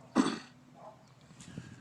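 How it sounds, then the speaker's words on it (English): A single short, rough cough close up, followed by quiet. "I got a cough."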